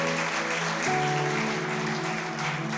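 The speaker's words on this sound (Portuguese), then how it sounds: "vai, aplauda bem forte o nome do Senhor" A church congregation applauds during a service, dense continuous clapping under sustained organ or keyboard chords that shift partway through.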